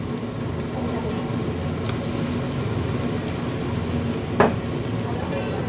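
Spice paste with onion and tomato fries steadily in a pan for a chicken curry, giving a continuous even sizzle with one brief sharp clack near the end.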